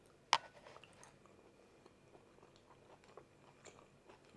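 One crisp bite into pressure-cooked beef steak curry with thick sauce, then soft, faint chewing close to the mouth with small wet clicks in a quiet room.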